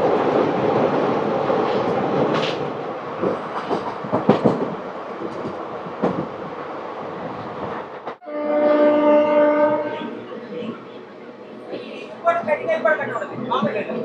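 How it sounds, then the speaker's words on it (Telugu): Pinakini Superfast Express passenger train rolling slowly on the Vijayawada to Chennai route, a steady broadband rumble of wheels and carriage noise, with a sustained tonal horn-like drone entering partway through and continuing to the end. "ట్రైన్ ఎందుకో స్లోగా అయితే వెళ్తుంది."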